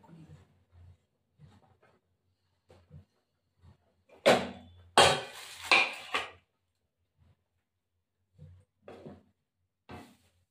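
A spoon stirring small-potato aloo dum with peas in a kadai, giving scattered scrapes and clinks against the pan, a dense burst of scraping in the middle, then sparse taps, fairly close and with no talk.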